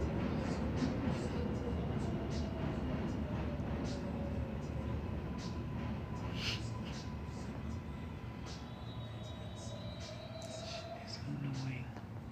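Train rushing past in Brooklyn, a continuous heavy rumble and rail clatter with squealing tones, loud and near, while a person talks over it.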